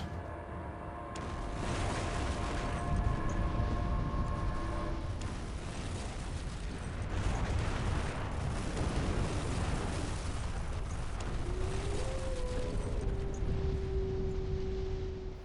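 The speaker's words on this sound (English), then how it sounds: "Conrad gives us a taster of Loki's powers with an explosion of our Drakkar ship" A Viking Drakkar ship explodes from Loki's powers in the video game Rune, a long rumbling blast and crackling roar that swells and stays loud for over fifteen seconds, with a brief tonal whoosh near the end.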